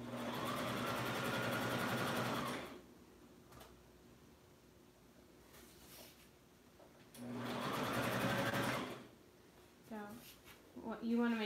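Sewing machine stitching fabric in two steady runs of a few seconds each, separated by a quiet pause with light handling noise; people talk briefly near the end.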